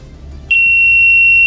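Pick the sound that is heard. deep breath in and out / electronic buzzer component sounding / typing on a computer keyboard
electronic buzzer component sounding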